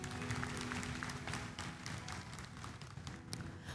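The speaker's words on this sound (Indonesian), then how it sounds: "berikan tepuk tangan dong buat Tuhan" A church congregation at a Sunday worship service applauds with dense, continuous clapping that fills the room at a fairly even level, without talk.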